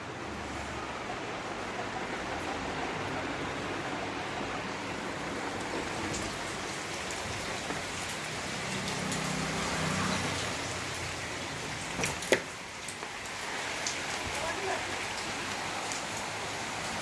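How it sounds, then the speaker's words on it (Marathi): Heavy torrential monsoon rain pours down in a steady, dense hiss that stays loud and even throughout, with a few brief louder splashes near the end. "खूप पाऊस आहे"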